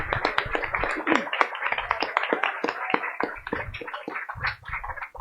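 Audience applause after a talk on amphibians and reptiles of Bogotá, a steady spatter of many hands clapping close by for several seconds, with a few cheers mixed in.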